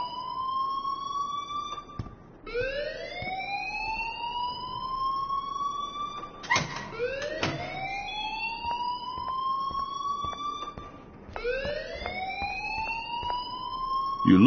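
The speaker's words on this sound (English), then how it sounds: "please turn off that alarm since that's your job" A rising, wailing alarm repeats in long sweeping cycles inside the video game Life is Strange, steady and prominent across the whole stretch, with occasional clanks and no voices.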